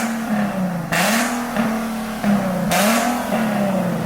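A Nissan 370Z with the 3.7L V6 and its muffler deleted revs repeatedly, and the raw exhaust rises and falls in loud, close bursts.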